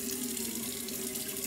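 Tap water runs in a steady, soft stream into a sink during a skincare routine, an even wash of sound with no talk.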